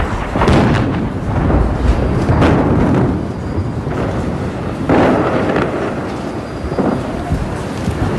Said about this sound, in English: Anti-aircraft fire mixed with incoming hits.